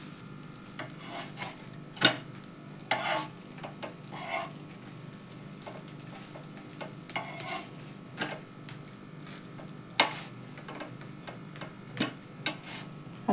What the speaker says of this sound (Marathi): मस्त असे छान भाजून घ्यायचे.